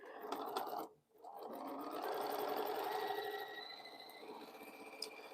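A sewing machine runs steadily while stitching quilt pieces for a scrappy quilt, with a brief pause early on before the motor resumes a continuous whir that carries on to the end.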